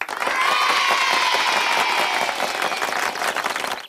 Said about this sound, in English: Give yourself a big clap, clap.